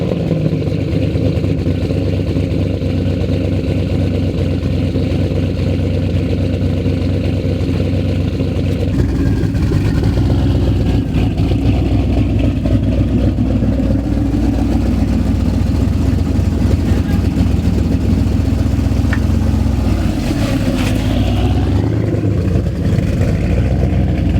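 A turbocharged Pontiac GTO with a mellow exhaust idles loudly up close with a deep steady rumble, then gets blipped with several throttle revs that rise and fall, especially toward the end.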